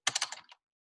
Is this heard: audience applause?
no